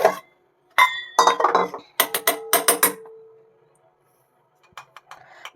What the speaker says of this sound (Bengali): এদিকে জলটা গরম হোক, ততক্ষণ আমি ডিমটা ফেটিয়ে নিচ্ছি